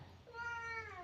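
A cat gives a single, drawn-out meow in answer to a person's question. The sound is fairly quiet and close by, and it rises and then falls over about a second.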